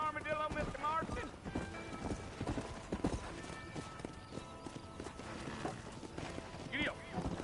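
Horse hooves clip-clopping at a steady pace in a western video game, set against rain and a music bed, with people talking over the riding.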